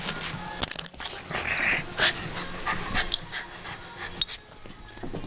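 Puppy whimpering and panting close by, with a few short yips and soft sniffs scattered through the stretch and no one speaking.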